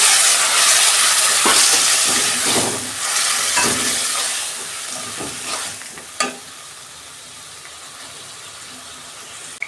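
Malabar spinach greens hit a hot pan with ginger and spices, setting off a loud, dense sizzle and stirring scrapes that gradually quiet as the frying settles.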